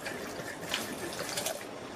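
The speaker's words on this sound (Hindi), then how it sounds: "इसमें पानी डाल के तीन बार अच्छे से धोएंगे" Grated raw potatoes are washed in water to rinse out the starch, a steady close sloshing and trickling of water with small splashes throughout, no voices.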